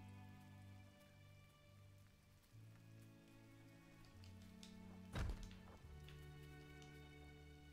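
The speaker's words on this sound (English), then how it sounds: "I love this part. I love the rain." Steady rain patters on a surface in the video game Gris over a low droning background, with a sharp thud about two-thirds of the way through.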